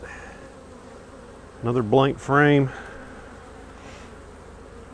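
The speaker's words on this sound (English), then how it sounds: "A lot of bees on there." A steady buzz of honeybees at a beehive hums in the background, with a person speaking briefly over it.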